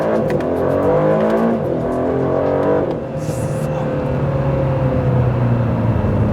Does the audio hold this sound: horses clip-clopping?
no